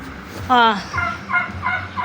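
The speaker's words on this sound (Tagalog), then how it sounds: "yung isa, kakak ng kakak, hindi na pakain, oh" A hungry pet fowl cackles and gobbles loudly in a burst, followed by several shorter repeated calls at a steady pace, close by and heard alone.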